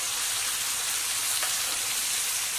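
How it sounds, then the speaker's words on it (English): Butter sizzling in a hot pan while being spooned over a steak, a steady bright hiss with fine crackle, close and even throughout, no voices. "Collect all that butter and just baste that over the top of your steak"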